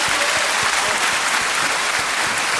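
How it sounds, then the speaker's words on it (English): Loud, continuous applause fills the room for the winner of a debate final, a dense wash of clapping with no break. "Wonderful, wonderful round of applause to the winner."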